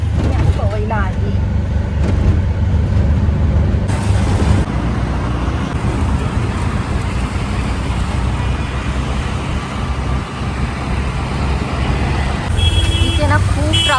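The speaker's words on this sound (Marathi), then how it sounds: "इथे ना खूप ट्रॅफिक असते या रस्त्याला पवईच्या" Steady road traffic on a busy Powai street, a continuous low rumble of cars, buses and trucks passing close by with no pause.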